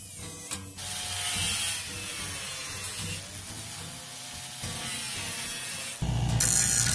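A cutoff tool cuts through the steel of an old machete blade with a continuous high, hissing whine and a grinding edge, steady and close, growing louder and harsher near the end.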